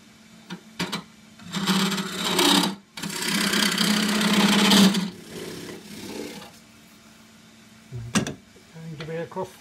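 A scraper cutting into a crossgrain green ash pot on a wood lathe gives bursts of loud rasping, roaring cuts over the steady motor hum, with pauses between passes and someone talking at times.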